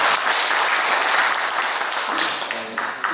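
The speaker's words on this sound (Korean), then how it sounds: "박수 한번 주시기 바랍니다" Steady applause from conference attendees at a Christian social welfare panel, many hands clapping densely and evenly, thinning slightly near the end.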